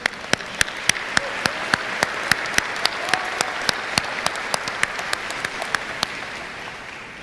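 Applause at the Massapequa High School graduation, a steady crowd of clapping with many sharp individual claps standing out in a regular rhythm, with no talk over it.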